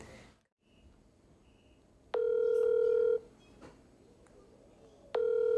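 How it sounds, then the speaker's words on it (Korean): Two long, loud touch-tone beeps from a telephone keypad being dialed, each about a second, separated by a quieter stretch of room noise; no talking over them. "우리 형님한테 전화하고 말해봐요"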